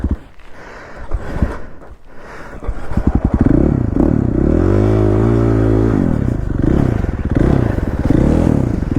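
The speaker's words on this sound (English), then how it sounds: "Good old 4-stroke flame out." A four-stroke off-road engine flames out in the snow. A few scattered knocks lead into loud, close running, whose pitch bends and sags as the motor bogs and sputters unevenly without cleanly recovering.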